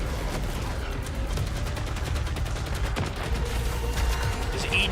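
Rapid gunfire in the video game Saros, a dense continuous barrage of overlapping shots with crisp repeated cracks, loud and sustained for the whole stretch with no talking over it.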